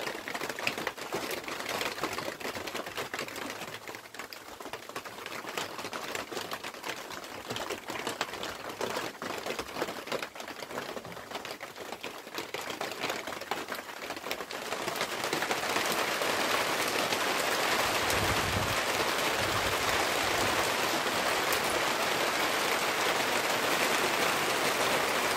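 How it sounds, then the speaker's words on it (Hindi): Steady rain patters and hisses on a rooftop, a dense continuous wash that grows louder and fuller partway through. "देखिए कितना कितना बारिश मेरे छत पर हो गया है,"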